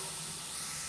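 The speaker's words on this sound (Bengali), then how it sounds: "এখানে আমি রসুন বাগার দেওয়ার জন্য রসুন ভেজে নিচ্ছি।" Garlic fries in hot oil for a dal tempering, giving a steady, close, hissing sizzle throughout a brief moment.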